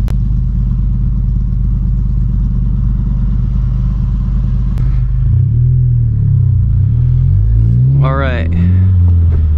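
Engine of a 10th-generation Honda Civic, tuned with KTuner, droning steadily from inside the car while driving, easing off the throttle around 3,500 RPM; someone speaks briefly near the end.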